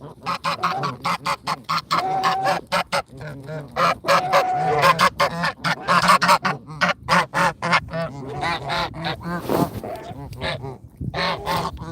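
Pretty Bird, a pet goose excited about food, honks over and over in loud, close bursts with a rapid, uneven rhythm, short nasal calls tumbling into one another with hardly a pause.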